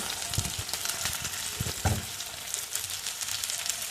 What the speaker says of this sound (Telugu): ఉల్లిపాయ వేస్తాను చూడండి.